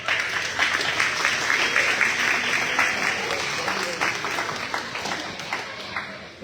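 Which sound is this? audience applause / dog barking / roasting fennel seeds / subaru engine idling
audience applause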